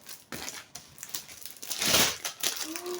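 A thin plastic package from a TEMU parcel crinkles close by as it is handled and unwrapped, in several quick bursts with a louder rustle near the end, and no talking.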